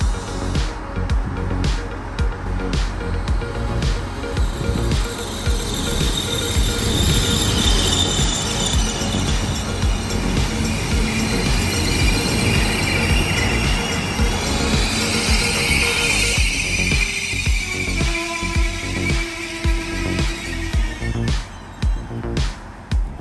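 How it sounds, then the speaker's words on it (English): The two-car Prospector passenger train arrives from Kalgoorlie at a station in Merredin, its wheels squealing loudly against the rails over a continuous rumble as it slows. There is no speech. "Here's the two-car Prospector arriving from Kalgoorlie."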